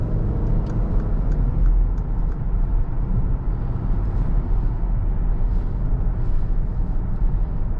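Steady engine and road noise from a 2013 Mercedes-Benz GL450 heard from inside the cabin while accelerating to pass another car, a continuous moderate drone with tire rumble and no talk.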